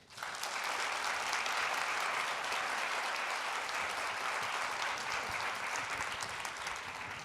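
An audience applauding to welcome panelists at a Vietnam remembrance event, sustained dense clapping from a large crowd that starts abruptly and continues evenly throughout, loud and close.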